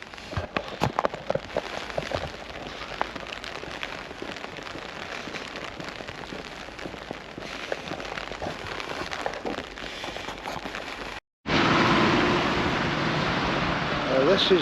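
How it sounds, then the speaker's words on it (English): Steady rain patters on surfaces outdoors in Dumfries and Galloway, a dense continuous hiss with scattered sharper drops, briefly cut before returning louder and fuller. "Nowhere for him to shelter today because it's raining."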